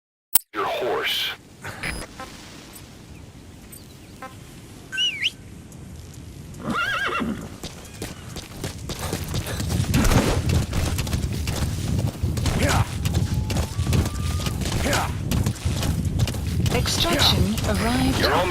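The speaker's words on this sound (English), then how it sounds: "Use your horse." In Metal Gear Solid V: The Phantom Pain, a horse whinnies and its hooves clip-clop steadily across open ground, with game effects and a voice talking over it.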